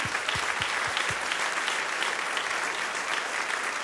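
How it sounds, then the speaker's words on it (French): A church congregation applauds to welcome a visiting pastor during a morning service. The clapping is soft and even, heard from a slight distance as a continuous patter. "j'aimerais qu'on puisse l'applaudir"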